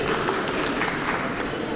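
Audience applause in a Ukrainian discussion hall, a steady dense wash of clapping that holds evenly throughout at moderate level.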